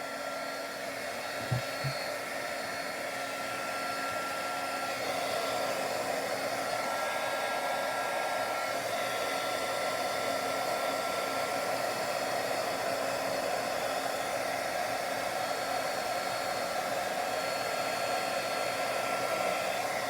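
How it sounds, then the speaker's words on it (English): A heat embossing tool blows hot air in a continuous, fairly quiet whir like a small hair dryer, steady and close for the whole stretch after a brief click as it switches on. "Now let me just turn on the heat tool."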